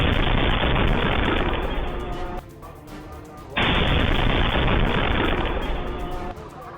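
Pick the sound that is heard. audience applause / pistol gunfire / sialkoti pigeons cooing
pistol gunfire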